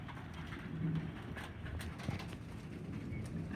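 Steady rain falling during a thunderstorm with hail, a dense continuous wash of patter heard fairly close, with no talk over it.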